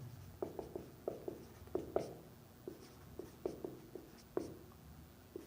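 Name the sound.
writing out a maths problem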